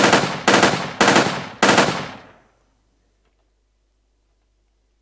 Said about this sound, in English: As you can hear, it's really fast, but I can't really fire the bursts unlimited, so there's a delay between the bursts